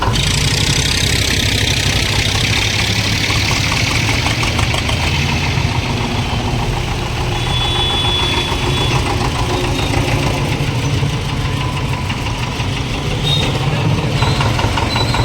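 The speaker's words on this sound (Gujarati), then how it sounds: "એનું આપણે ટ્રેક્ટર આગળ લેતા જઈએ" A tractor engine idling in the queue at the Kodinar market yard during a mung and urad auction, a loud, steady, close diesel rumble with an even knocking throb that runs unbroken throughout.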